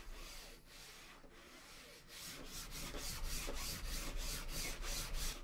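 A lightweight gaming mouse scraped back and forth across a Cordura fabric mouse pad, a steady raspy rubbing that grows louder and settles into regular strokes, close up and with no talking.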